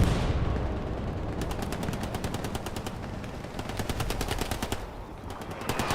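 Rapid strafing gunfire from an aircraft run in a World War II battleground video game at the Siegfried Line, loud sustained bursts of machine-gun fire over a dense rumbling background, with a short gap before the firing resumes.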